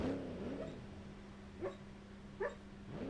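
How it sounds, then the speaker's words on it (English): A sleeping dog lets out soft dream squeaks, faint high whimpers spaced a second or so apart, heard over a low steady hum. "Dog's got the sleep squeaks."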